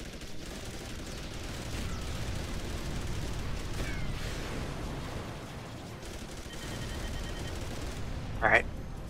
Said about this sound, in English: These bastards are shooting me.